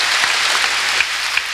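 A congregation at a church service claps steadily, a dense wash of applause that stays loud throughout the short moment.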